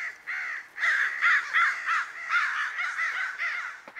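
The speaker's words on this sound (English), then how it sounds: "but we sure do have the crows" Crows cawing outdoors in the morning, a run of about eight harsh, fairly loud caws in uneven rhythm, with no voices over them.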